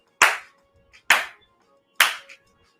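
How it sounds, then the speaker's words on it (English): Three slow, loud, separate hand claps spaced about a second apart, each sharp and crisp with a short decay, and near-silence in between. "I give you a round of applause."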